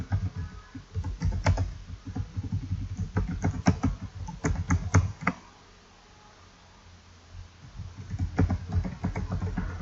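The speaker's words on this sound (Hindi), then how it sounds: "जैसे मैं कोई भी रैंडम टेक्स्ट यहाँ पे टाइप कर रहा हूँ" Close, rapid typing on a computer keyboard while entering text in Notepad, with bursts of clattering keystrokes, a pause of near silence midway, then typing resumes; no voices.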